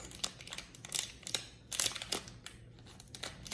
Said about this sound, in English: Use the scissors to open it.